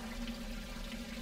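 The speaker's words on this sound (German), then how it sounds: "Ein Rinnsal." Thin trickle of running water in a sci-fi point-and-click adventure game, a faint steady babble over a low tonal hum, with no talk.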